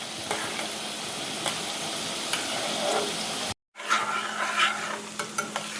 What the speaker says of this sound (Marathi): मिरची ही अशी ज्या फोडणीमध्ये आपण संपूर्ण जी फोडणी करणार आहोत ना त्यातच तळून घ्यायची आहे